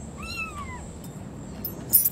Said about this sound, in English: He's still meowing.